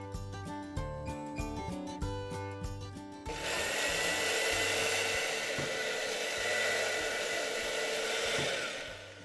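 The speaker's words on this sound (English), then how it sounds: "Now, you need to liquidize it." A blender liquidizes a simmered sweet potato broth, its loud continuous whirring roar starting abruptly after a few seconds of background music and running steadily to the end.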